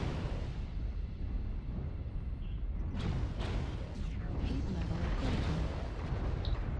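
Mech weapons fire through a MechWarrior video game battle, with heavy booming shots and bursts layered over a dense rumbling din, loud and continuous.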